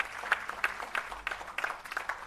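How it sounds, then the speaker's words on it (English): A conference audience claps for restorative justice facilitators: sparse, fairly quiet applause with distinct individual claps in an uneven rhythm, sounding like a modest crowd. "Could you keep the applause going, ladies and gentlemen?"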